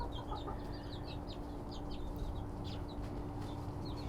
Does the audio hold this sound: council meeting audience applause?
no